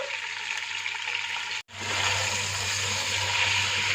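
Onions sizzle in hot oil with a steady, close crackling hiss, briefly cut off by a short silence before the sizzle returns.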